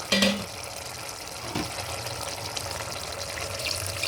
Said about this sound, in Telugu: చింతపండు పులుసు వేసుకుంటున్నాం.